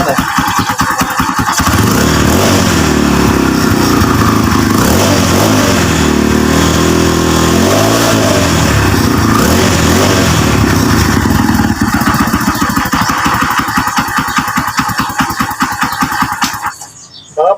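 Kawasaki Barako motorcycle with a starting fault, its single-cylinder engine catching and running loud and close, a steady rapid putter with rising and falling revs for most of its length before it cuts off near the end.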